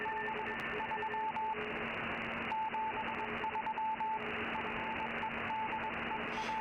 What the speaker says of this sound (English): some CW going on there